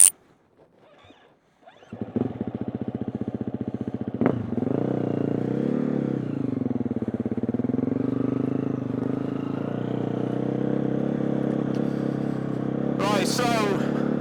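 A dirt bike starts up after a quiet moment, then revs and rides steadily around an enduro track in the rain, the engine loud and close with brief throttle swells and a sharp rev near the end.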